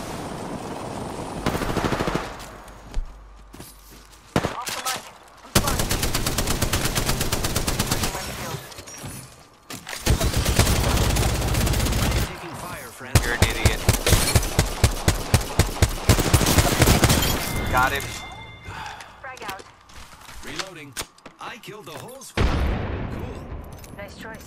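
Apex Legends video game gunfire: long stretches of rapid automatic fire broken by short pauses, with a few heavy booms and sharper single shots mixed in, loud and close, with voices at times.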